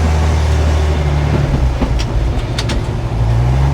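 A 1957 REO dump truck rumbles loudly and steadily while it drives over speed bumps, with a low engine drone and a few faint knocks and rattles from the body.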